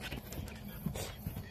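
Dog panting softly outdoors at a cabin site, quick faint breaths with a couple of small whimpery sounds, heard close but quiet.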